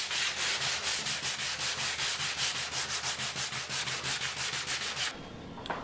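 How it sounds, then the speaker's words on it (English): Hand sanding with a sanding sponge over the thin wood veneer of a coffee table, a rhythmic scratchy rasp of about twenty quick back-and-forth strokes, close and steady, then stopping abruptly. "I decided to take out the sanding sponge and sand down so I wouldn't go through the thin layer of veneer."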